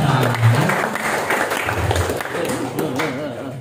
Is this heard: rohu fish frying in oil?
no